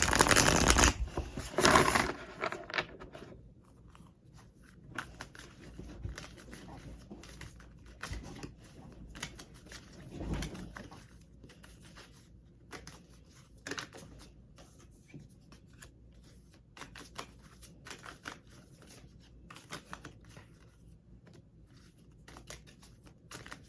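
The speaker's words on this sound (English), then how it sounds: "feel free to continue praying as I shuffle" Tarot cards being shuffled close by: a loud riffling burst at the start, then steady soft papery slides and taps of cards continuing throughout, with occasional sharper flicks.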